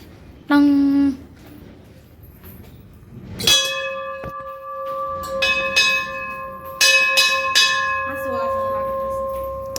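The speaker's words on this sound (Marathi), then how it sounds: "इथं घंटा वाजव आपण" A temple bell struck several times, each ring sustaining a bright metallic tone that lingers and overlaps, loud and close, with a brief tone before the first strike.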